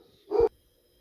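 A single short, close dog bark sounds once in a quiet room, then stops.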